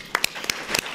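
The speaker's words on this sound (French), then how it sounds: "peut-être un petit coup d'applaudissement" A handful of separate, close claps ring out sparsely in a room at an annual professional meeting, a brief, thin smattering of applause rather than a full ovation.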